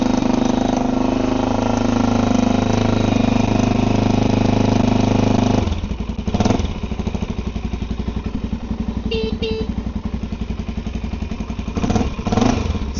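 A motorcycle sits idling after starting with the choke just turned off, a loud close mechanical rumble that settles into a steady throbbing idle with a few brief revs and clatters.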